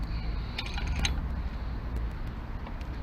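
Small adjuster bolts on the chain of a Zontes Monster 125cc motorcycle are turned with a tool, giving soft creaking, clicking mechanical sounds over a steady low hum, close and fairly quiet.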